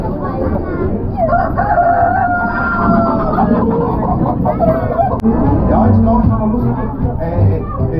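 Chickens cluck while a rooster crows loudly and close by, over a busy farmyard background. People are talking throughout.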